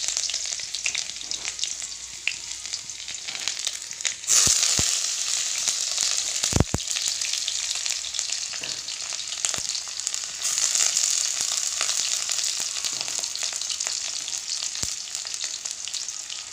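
Onions sizzle and fry steadily in hot oil for an Assamese dish, with occasional sharp clinks and scrapes of stirring through the continuous hiss.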